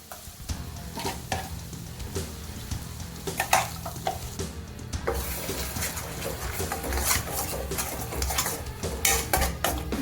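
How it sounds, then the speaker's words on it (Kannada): Ground masala frying over medium heat in a pan for Mangalorean chicken ghee roast, with steady sizzling under frequent metallic scraping and stirring of a spoon against the pan, close and continuous. "ಮಸಾಲ ಮೀಡಿಯಮ್ ಉರಿ ಇಟ್ಕೊಂಡು ಒಂದು 10 ನಿಮಿಷ ಚೆನ್ನಾಗಿ ಫ್ರೈ ಮಾಡ್ಕೋಬೇಕು"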